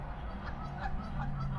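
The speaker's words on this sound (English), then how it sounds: "goose is really up to no good." A goose honks repeatedly in an outdoor trailer and mobile home community, its calls fairly faint and spread through a dense, steady wash of background noise.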